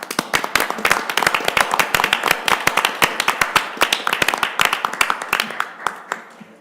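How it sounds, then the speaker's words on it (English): People at a village council meeting give a round of applause, a small group whose sharp, distinct claps come close and loud in a rapid, uneven patter, thinning out toward the end. "Let's give them a round of applause, everybody."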